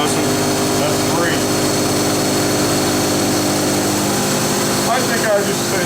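A Hardinge CNC lathe with a 6-inch six-jaw chuck spins its spindle at 3,000 RPM, giving a loud, steady, continuous machine whine and hum with faint voices in the background.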